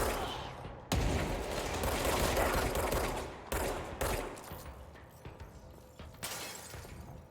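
A weapon fires in the video game Control, with sharp loud bursts and shattering impacts followed by debris and rumbling tails that fade between shots.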